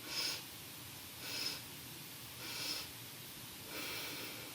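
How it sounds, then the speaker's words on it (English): Quiet little sniffing inhalations during a yoga breathing exercise, four soft airy sniffs spaced about a second apart over faint background hiss. "So we're going to do those little sniffs in."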